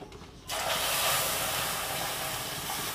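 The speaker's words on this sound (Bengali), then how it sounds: "এবার এর মধ্যে আমাদের দুধটা ঢেলে দেওয়া হচ্ছে" Milk poured into hot caramel in a pan for Bengali sweet yoghurt sets off a sudden loud, steady sizzling hiss that starts abruptly and holds for a few seconds.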